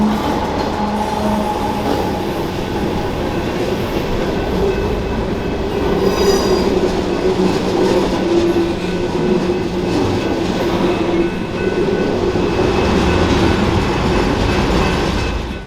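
CPKC loaded grain train 319, led by a CP GEVO with a KCS de Mexico AC44CW in Grey Ghost paint as mid-train DPU, rolls past with a steady rumble of railcars, wheels squealing and faint clickety-clack throughout, close and loud.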